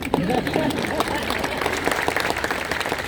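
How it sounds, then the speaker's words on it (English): An audience claps and applauds at a Will Brown 100-year remembrance ceremony, a steady broadband patter of many hands that continues throughout, with voices mixed into the crowd noise. "You can applaud for that."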